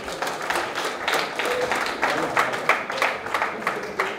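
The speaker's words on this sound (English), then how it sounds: "Please give him a big round of applause." Audience at a press club induction ceremony applauding an honoree, a sustained spread of clapping from a moderate crowd, with some voices mixed in.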